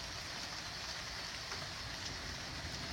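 Rain pours steadily outdoors over a Florida garden with banana, papaya and water spinach plants, a dense even hiss that holds at the same level throughout.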